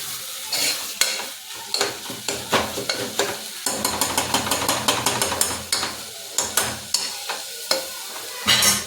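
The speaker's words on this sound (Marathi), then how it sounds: "त्यानंतर आपण हे वाटलेलं वाटण टाकायचं. वाटण चांगलं मिक्स करून घ्यायचं." A spoon stirs a ground spice paste through a pan of dal and tomato, with rapid, rhythmic scraping and tapping strokes over a soft background sizzle, loud and close with no talk.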